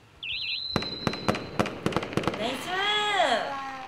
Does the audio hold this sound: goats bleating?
no